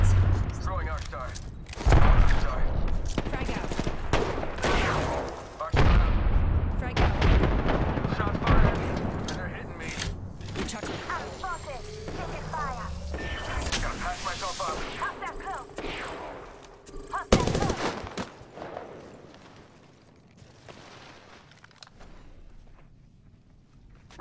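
Gunfire rattles through an Apex Legends battle royale match, with bursts of shots, heavy booms and scattered impacts, loud and close at first and then thinning out, while voices talk over the fight.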